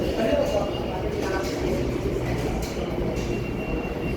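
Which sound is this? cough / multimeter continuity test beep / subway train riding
subway train riding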